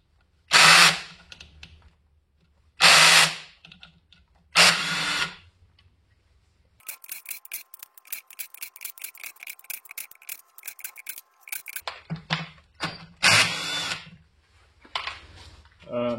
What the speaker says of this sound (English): I've just got this impact wrench or impact gun here, and we're just going to zip these off.